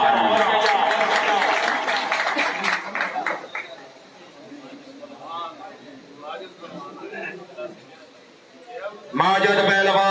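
A crowd claps at an outdoor pigeon club prize-giving, a burst of applause at the start that fades into people talking, then another brief round of clapping near the end.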